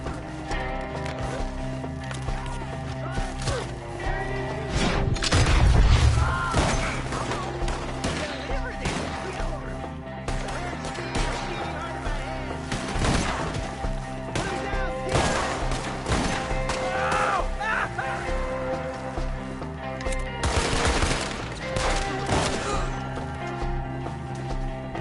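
Gunfire in the video game Red Dead Redemption 2 during a chaotic shootout, scattered sharp shots and cracks mixed with galloping hoofbeats and frantic shouting voices throughout.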